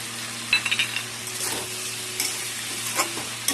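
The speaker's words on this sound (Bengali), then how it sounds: "আলুটা ভাজা হচ্ছে, মোটামুটি ভাজা হয়ে গেলে সিম টমেটো দিয়ে দেবো" Potato pieces and flat beans fry in a pan with a constant crackling sizzle, punctuated by light clinking stirs of a utensil against the pan, without speech.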